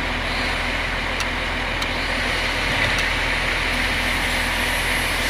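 A Cat 966H wheel loader with a gear that will not engage in reverse idles with a steady, loud diesel drone and hum, with no talking.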